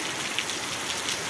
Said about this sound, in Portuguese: muitos relâmpagos e chuva forte